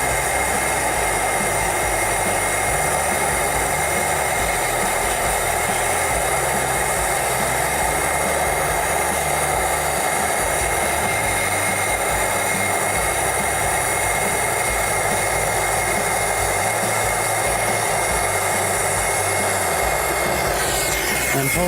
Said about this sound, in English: get the torch on the welded connection